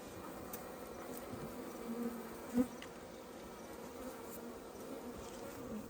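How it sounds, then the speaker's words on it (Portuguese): Steady buzzing of honeybees at a hive box set up to rescue a colony from a tree trunk, a continuous low drone with faint passing flybys and one brief knock. "filma aqui as abelhas entrando"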